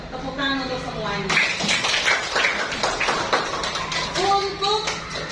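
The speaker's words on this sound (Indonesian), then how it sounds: "Tepuk tangan untuk semuanya." A class of students clapping together in a classroom, a burst of hand claps after a teacher speaks, with voices mixed in.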